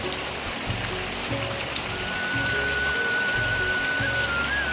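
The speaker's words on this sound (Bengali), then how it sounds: "এত জোরে বৃষ্টি হয়ে যে বালতিটা পুরো খালি ছিল ভর্তি হয়ে গেছে" Heavy rain falls steadily on a village in West Bengal, a dense, constant patter and wash close by. A single faint tone runs beneath it, with no speech.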